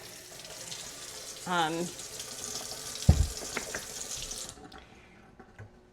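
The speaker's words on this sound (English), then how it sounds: "I know you're not really supposed to use soap on wood, but I am rinsing it off fairly quickly." Tap water running while a wooden item is rinsed at a sink, a steady hiss with a short tonal squeak and a few knocks of wood against the basin, ending as the flow stops; a voice is briefly heard.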